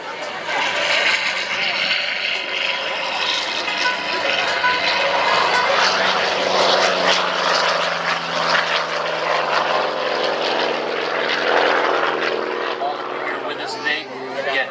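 Propeller airplane engine powering up at an air show, a loud steady drone that holds throughout with a faint voice mixed in.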